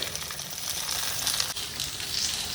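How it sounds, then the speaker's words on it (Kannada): Food frying on a hot tawa griddle gives a steady, close crackling sizzle that holds at an even level throughout, with no voices. "ಒಂದು 10 ನಿಮಿಷ ತವಾ ಫ್ರೈ ಮಾಡಬೇಕು"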